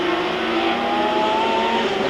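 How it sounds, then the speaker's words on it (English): A BMW M1 Procar races at Donington in 1979, its engine note climbing steadily as it accelerates, loud and continuous with a rising whine throughout. "Racing cars."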